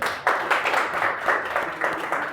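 Students in a reasoning class clap together in pulsing bursts, a moderately loud room of hand claps that swells and dips in waves for a couple of seconds.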